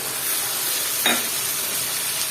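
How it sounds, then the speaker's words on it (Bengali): Mixed vegetables and teasel gourd frying in a pan give a steady hissing sizzle, broken by one short scrape of a stirring spoon midway; no one speaks. "আবারও নেড়ে চেড়ে দিব আর এই কটা সবজি আমি ভালো মতো কষিয়ে নিয়েছি"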